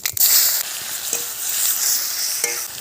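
Chopped onions sizzle in hot oil tempered with cumin seeds, a loud, steady frying hiss with a few soft stirring scrapes.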